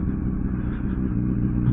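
A Yamaha motorcycle with loud aftermarket exhaust pipes riding along a country road toward a village, its engine a continuous deep, throaty rumble heard up close from the rider's position.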